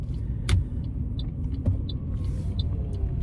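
Cars drive on an Edinburgh road, heard as a continuous low rumble from inside a vehicle, with a few short clicks and faint high pips over it.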